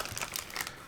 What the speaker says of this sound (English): big huge plastic bag that they put them in